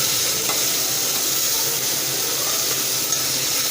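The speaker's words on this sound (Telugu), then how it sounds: "వేసుకొని మంచిగా ఒకసారి కలపండి." A salted vegetable mixture with bottle gourd is stirred in a pan, a constant close sizzle and frying hiss with soft scraping, steady throughout and without speech.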